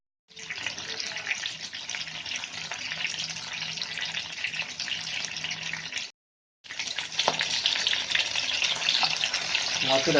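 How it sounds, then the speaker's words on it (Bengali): Fish pieces frying in hot oil, a loud, steady bubbling sizzle close by, cut by a brief silent gap midway before resuming just as strong, with a light scrape near the end. "তেলটা ভালো করে গরম করে নিয়ে আমরা মাছগুলো একের পর এক এর মধ্যে দিয়ে দেব।"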